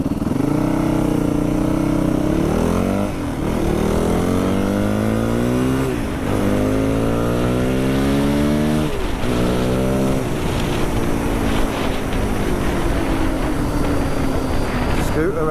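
A Yamaha WR450F dirt bike engine revs hard through repeated rising bursts, each climbing sharply then dropping back as gears change, loud and close with continuous engine roar throughout.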